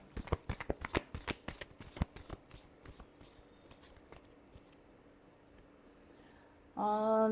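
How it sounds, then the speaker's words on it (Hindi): Rapid riffling of a tarot deck, crisp card flicks fading into softer shuffles, then a voice starts speaking at the end. "last shuffle"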